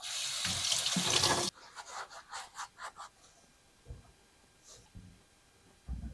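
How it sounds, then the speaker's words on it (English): A kitchen tap runs hard into a sink as pumpkins are washed of dirt, a loud gush that cuts off abruptly, followed by scattered drips and soft splashing handling sounds. "we're going to wash off the pumpkins and get the dirt off of them"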